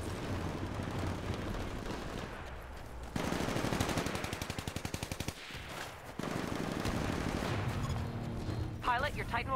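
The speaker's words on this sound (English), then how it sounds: "Liking the SMG, faster rate of fire." Rapid SMG bursts from the Titanfall video game, hammering in fast rhythmic volleys with a brief pause near the middle, while game dialogue and other combat sounds run underneath.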